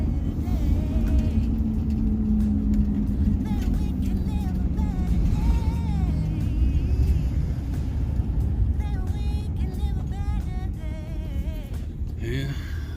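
A car drives along a road toward a gas station, its engine and tyre rumble forming a steady, loud low drone from inside the cabin while people talk over it.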